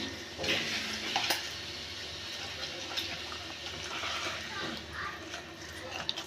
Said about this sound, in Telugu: కొంచెం పచ్చడే కదా అని ఇలా కలిపేస్తున్నాను